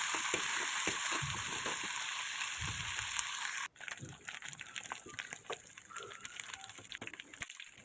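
Garlic paste and ginger paste being stirred in a frying pan for khichuri, giving a steady close sizzle with soft scraping stirs that drops away abruptly partway through, leaving quieter scattered crackles.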